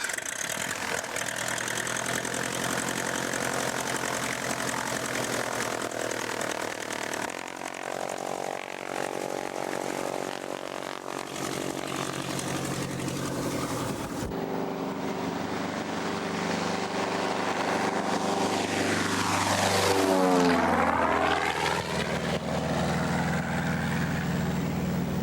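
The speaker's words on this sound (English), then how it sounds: "Finally, with the systems all checked out, it was time for takeoff." A light propeller aircraft engine runs steadily through its takeoff, a droning, buzzing roar that holds for a long stretch and swells with a sweeping tonal shift near the end, with no talk.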